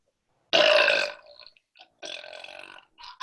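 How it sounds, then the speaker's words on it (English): A girl lets out a loud, solid burp in a burping contest, one strong belch followed by a second shorter one, close up with quieter voiced bits between. "That was really a solid burp."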